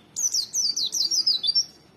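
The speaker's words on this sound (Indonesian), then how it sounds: "burung pleci dikenal gacor dan memiliki suara dengan karakteristik yang lantang" Pleci, an Indonesian white-eye, sings loud, close, high-pitched warbling phrases in quick succession, a bright twittering run of rising and falling notes lasting nearly two seconds, alone without voices.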